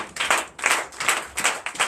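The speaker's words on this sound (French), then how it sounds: "Je vous demande d'applaudir très fort pour ceux qui sont là" Church congregation clapping in bursts at a Sunday service, a few loud rhythmic waves of hands striking together with short gaps between, close and fairly sharp.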